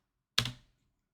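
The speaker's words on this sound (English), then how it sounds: "My typing is quite aggressive." A single short, hard burst of keystrokes on a computer keyboard, several clattering clicks bunched within about a third of a second, close and fairly loud, then silence.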